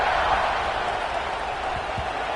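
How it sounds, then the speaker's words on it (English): A football stadium crowd buzzes after a score, a steady, broad roar of many voices filling the space with a few faint thumps beneath. No single voice stands out clearly. "this crowd is buzzing after that last score"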